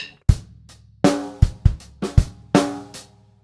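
Close drum kit groove with a swung sixteenth-note snare added on the e of beat three, kick and snare strokes landing in a lilting pattern under bright cymbal ring, played alone without speech.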